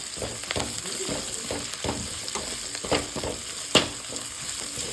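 Chicken pulimunchi ingredients with onion frying in a pan, a steady close sizzle punctuated by frequent short stirring clicks and one sharper knock.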